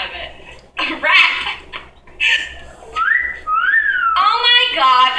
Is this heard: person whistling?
yes